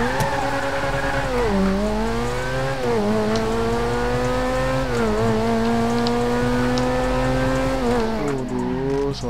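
Powerful car engine in GTA 5 revving hard through rising and falling gear sweeps, tires squealing as the wheels spin, loud and close throughout with no talking.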